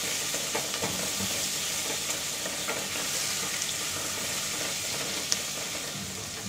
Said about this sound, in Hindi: अदरक लहसुन पेस्ट को भून लेंगे लाल होने तक।